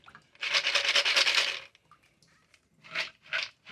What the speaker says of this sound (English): You can see a lot of water still comes out.